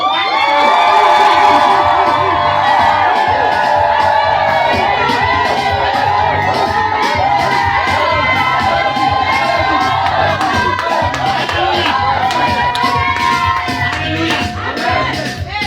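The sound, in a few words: church congregation shouting for joy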